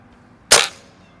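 A single sharp shot from a Beeman 1358 underlever air rifle during backyard target plinking, a loud crisp crack with a short decaying tail and no other sound.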